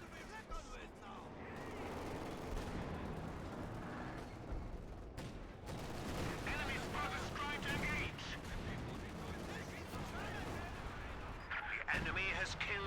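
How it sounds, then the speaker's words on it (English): Artillery barrage in a competitive World War II shooter match taking out an MG42 position, a dense continuous stretch of booming explosions and gunfire rolling on throughout, with a commentator's voice running beneath. "Major called in a barrage on the MG42, taking it out."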